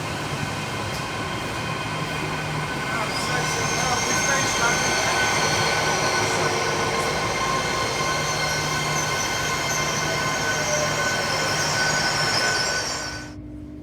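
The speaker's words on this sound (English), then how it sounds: "This is one of the notorious GWR Class 800 trains" Steady rumble and rushing roar of a GWR Class 800 train heard from inside, with a long high whine and occasional faint squeals continuing throughout.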